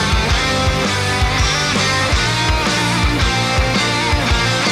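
Rhythmic electric guitar riff modeled on a classic figure, played alone and loud with punchy, repeating chord stabs and a steady driving pulse throughout.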